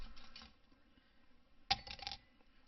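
A single ice cube clinks sharply into a glass for scotch, a brief bright tap standing out from quiet room tone, followed by a short rattling settle.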